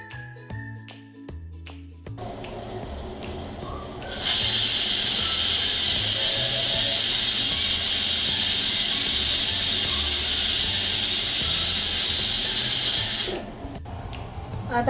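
A pressure cooker on a gas stove cooking dal with vegetables lets off one long, loud, steady hiss of escaping steam lasting about nine seconds, with quieter kitchen sounds before and after.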